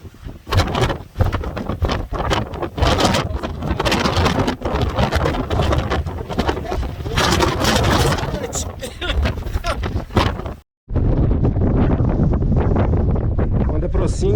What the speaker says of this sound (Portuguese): Quando aproxima ali da borda do penhasco, o vento é insuportável